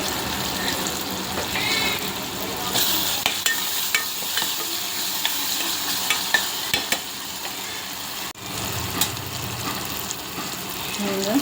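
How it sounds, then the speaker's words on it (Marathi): Ginger-garlic paste fries in a pan, giving a continuous loud sizzle with frequent clicks and stirring scrapes throughout and a brief dip near the end. "आता हे आलं लसणाची पेस्ट टाकते"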